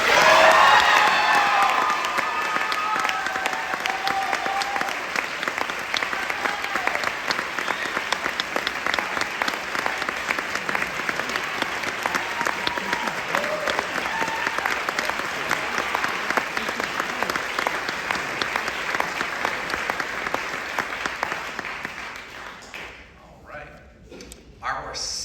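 Sustained applause from a large audience at a high school spring band concert, loud and steady for about twenty seconds with some cheering, then fading out near the end.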